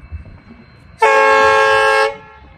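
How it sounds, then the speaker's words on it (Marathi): One loud, sustained train horn blast lasting about a second as a train arrives at Vighanwadi railway station, rich in harmonics, sounding over quiet background rumble. "गाडीचं आगमन झालेलं आहे विगणवाडी रेल्वे स्टेशनवर"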